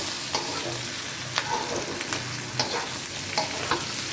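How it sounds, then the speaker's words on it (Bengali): Pointed gourd (potol) frying in a pan with turmeric, coriander and cumin paste, a steady close-up sizzle with occasional sharp crackles and stirring clicks. "একসাথে করে এটা মাখায়া পরে আমি ভাজছি, এটা পটলটা ভেজে নিয়েছি"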